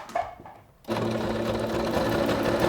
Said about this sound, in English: When we start, we can start just by sewing.